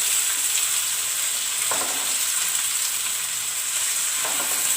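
Kilimeen fish fry steadily in a hot iron pan, a loud continuous sizzle filling the whole clip, with a couple of soft stirring clinks partway through.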